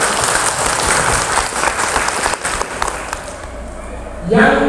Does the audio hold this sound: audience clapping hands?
yes